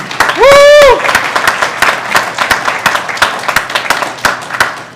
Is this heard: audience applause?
yes